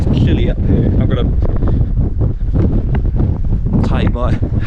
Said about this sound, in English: it is bloody windy and cold at the top of this